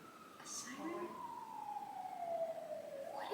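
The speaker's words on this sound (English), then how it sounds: "a siren?" An emergency vehicle siren wails outdoors in Seattle, a single long falling tone heard from a distance, faint and muffled as if through a window, with a rising sweep starting at the end.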